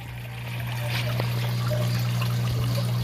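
Water trickling and flowing through a cheap homemade fountain tower system, a steady splashing stream that swells in the first second and then holds constant, close, with a low motor-like hum underneath and no talking.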